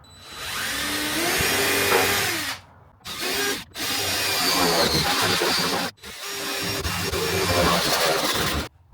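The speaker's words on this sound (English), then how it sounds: "Now I'm going to make a few holes as the brackets are out of my way and just go and cut across." A power tool grinds and whirs loudly up close while making holes in the metal body of a van, running in three long bursts separated by short pauses.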